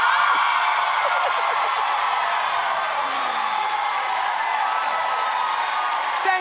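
Studio audience at a daytime talk show applauding steadily, a dense even wash of clapping held at a constant level throughout, with no voices standing out.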